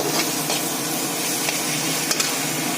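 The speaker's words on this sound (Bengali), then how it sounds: "এই মশলাটা একটু কষিয়ে নিলাম" Spiced masala with chilli powder stir-fried in a pan for a Bengali home dish, a steady loud sizzle with soft scraping stirs and small spits, no voices.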